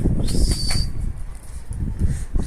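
Pigeons flapping their wings as they take off and fly overhead, a burst of fluttering wingbeats early on followed by softer flaps and a few faint coos, fairly close and without talk.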